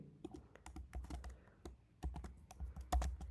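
Steady, quick typing on a computer keyboard while writing Spring Boot code, close crisp key clicks in uneven bursts with occasional heavier key strikes, quiet and without talk.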